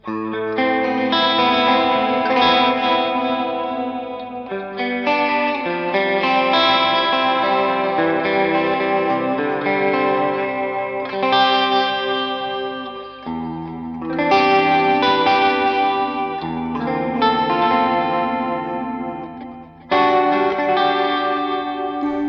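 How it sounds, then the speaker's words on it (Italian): Clean electric guitar chords through a Strymon Mobius chorus pedal and a Mesa Boogie Mark IIC+ amplifier, with a shimmering chorus effect, strummed and left ringing in long phrases, played alone. "Accendo il chorus, che è uno Strymon Mobius."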